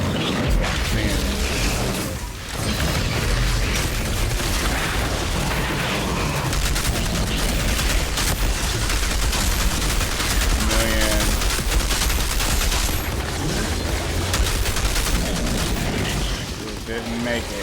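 Dense video-game gunfire from a Technomancer build rattles almost continuously, loud shots and mechanical clatter layered with game effects, with a person talking over the action.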